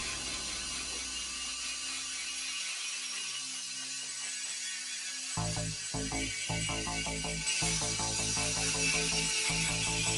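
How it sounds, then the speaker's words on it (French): A dental handpiece spinning an Abrastis Pro disc at 5000 rpm polishes a chrome cobalt denture framework. A steady high-pitched whine breaks off into brief silence, then gives way to a harsher rhythmic grinding with repeated bursts. "À la vitesse de 5000 tours par minute, les différents bras de disque Abrastis Pro épousent les formes de la surface granitée."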